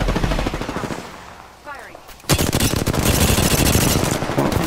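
Automatic gunfire in the video game Apex Legends, loud rapid bursts that drop off briefly and then resume as sustained heavy firing.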